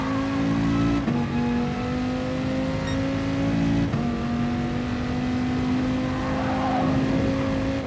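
Race car engine droning steadily in GT Sport during a daily online race, with two sharp pitch drops as gears shift and the revs climb back, loud and continuous with no talk.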